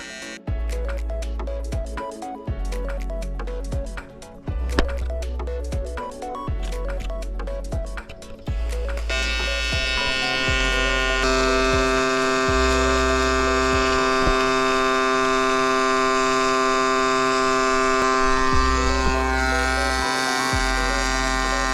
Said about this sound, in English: I'm going to leave that unwelded, but I'm going to do this weld